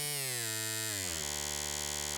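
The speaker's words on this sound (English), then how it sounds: "So it's a very kind of thin," A thin, buzzy wavetable synthesizer tone from Arturia Pigments holds steady, its harmonics sliding down slightly before settling into a flat, bright drone.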